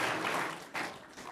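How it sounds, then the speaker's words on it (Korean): A church congregation at an Easter service applauds at a moderate distance, a quiet, steady patter of many hands clapping that briefly swells near the end. "우리 유치부 친구들한테 박수 좀 한번 보내줘야겠습니다"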